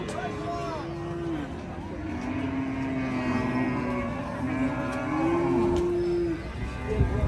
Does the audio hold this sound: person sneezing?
no